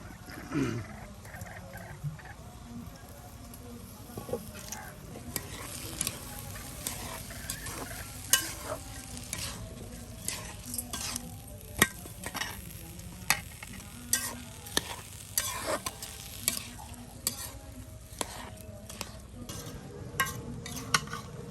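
Rice stirred and fried with spices in a pan, a low steady sizzle under repeated sharp scraping clicks of a utensil throughout, fairly close.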